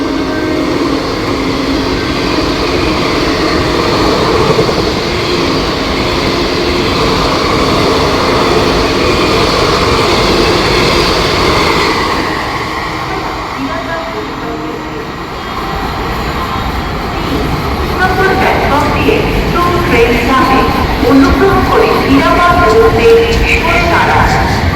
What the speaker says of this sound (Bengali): Sealdah Asansol superfast intercity express with Santragachi শেডের